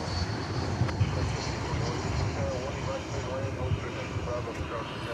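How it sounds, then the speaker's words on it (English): An Airbus A319 airliner arriving at Dallas/Fort Worth airport makes a steady, distant engine roar that fills the background, with no strong peaks. "There is what looks to be an Airbus A319 coming in from Durango, California, Durango, Colorado, or Durango, Mexico"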